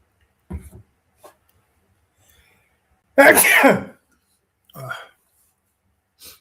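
A person with a pollen allergy gives one loud, sharp sneeze indoors, set among short quiet breaths and sounds.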